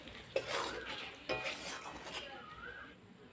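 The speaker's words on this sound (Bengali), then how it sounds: "পনিরটা দেওয়ার পর মশলার সাথে আমি 2 মিনিট কষিয়ে নিয়েছি" Paneer sautéed with spices in a pan for matar paneer: a soft sizzle runs beneath two sharper spatula scrapes and knocks, close up and moderately quiet, with no talking.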